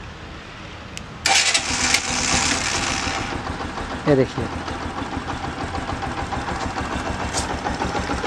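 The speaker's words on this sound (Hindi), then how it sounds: "आपको बाइक की आवाज़ भी सुनाई देता होगा" A Bajaj Platina BS6 motorcycle engine cranks and catches with a sharp burst, then settles into a steady, close, rhythmic idle. Someone talks over it briefly.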